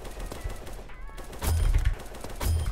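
AK rifle fire in the video game Aimblox: a few loud, punchy bursts with heavy low thumps, close and clear.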